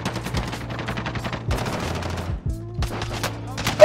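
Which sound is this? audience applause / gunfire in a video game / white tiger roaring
gunfire in a video game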